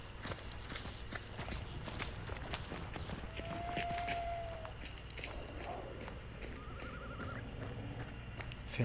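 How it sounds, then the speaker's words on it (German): Faint horse hooves clip-clop at a walk within the video game Hunt: Showdown, soft and irregular under a low ambient drone, with a brief whinny-like tone partway through. "Pferdchen."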